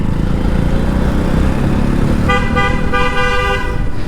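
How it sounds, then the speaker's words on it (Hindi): Car horns honk in dense traffic, with a steady, loud rumble of engines and road noise throughout and a long, repeated harsh blast near the end. "इतने हॉर्न मारे जा रहे हैं"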